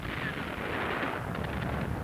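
Anti-aircraft fire from a WWII newsreel, heard as a dense, continuous wash of rumbling gunfire and distant bursts that runs for the whole two seconds without letting up, grainy and compressed, with no voices.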